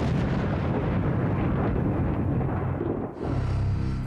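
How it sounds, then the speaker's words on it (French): American rocket launches exploding with a dense, continuous roar that fills the clip, loud and close, briefly dipping before a deep low rumble resumes. "ces explosions sont celles de fusées américaines"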